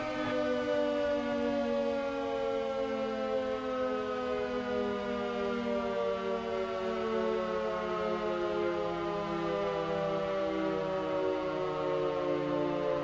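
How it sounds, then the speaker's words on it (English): A loud, steady WWII-era air raid siren wails continuously, its tone slowly sliding downward and holding, with no other sounds present. "this one's the air raid siren"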